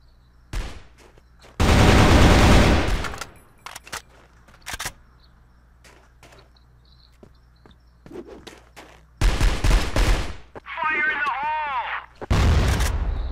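Bursts of machine-gun fire in the shooter game Crossfire, loud close volleys separated by quieter stretches, with other game effects in between.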